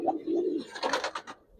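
Black Giribaz pigeons in an Old Dhaka loft coo close by: a low soft warble followed by a rapid run of throaty pulses, brief and alone.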